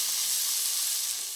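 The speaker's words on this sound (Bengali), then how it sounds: "পেঁয়াজটা আমি লাল লাল করে ভেজে নেব।" Chopped onions sizzle steadily in hot oil over already-fried whole spices, being browned for a wedding-style potol and prawn curry; a close, continuous bright frying hiss with no talk.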